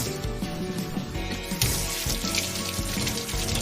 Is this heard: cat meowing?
no